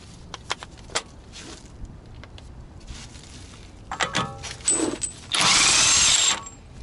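A 32mm socket loosens the axle nut on a Toyota, with a few short clicks and clanks of the tool followed by a loud, sustained burst of a power tool near the end.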